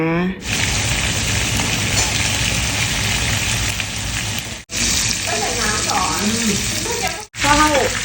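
Fermented Thai fish (pla som) frying in hot oil over low heat, a steady loud sizzle and crackle running throughout, with brief breaks and some clinking near the end.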